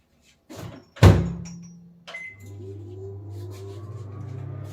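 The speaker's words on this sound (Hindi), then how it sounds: "मैंने माइक्रोवेव खोल दिया है" A microwave oven door opens with a sharp clunk, preceded by a softer knock, then a low steady hum continues afterward.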